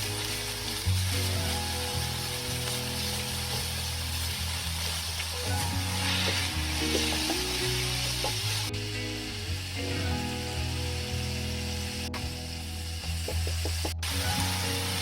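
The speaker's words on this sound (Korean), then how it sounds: "팬에 기름을 두르고 마늘과 소고기를 넣고 후추와 소금을 넣고 볶습니다." Beef and garlic fry in an oiled pan, giving a soft, continuous sizzle under a steady low hum, with occasional light clicks of stirring.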